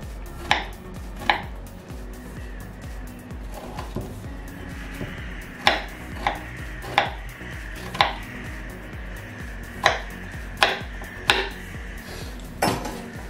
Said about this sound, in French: Et vous allez couper en dés.